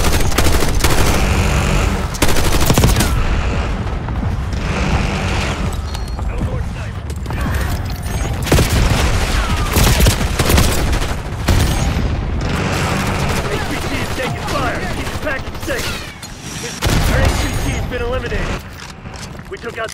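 Heavy gunfire fills a Black Ops 6 multiplayer match in a Kill Order mode on the Babylon map, with loud bursts, sharp single shots and explosive booms layered under radio-style voice callouts.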